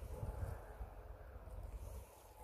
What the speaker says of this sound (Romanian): vântul ăsta a început să bate și mai tare.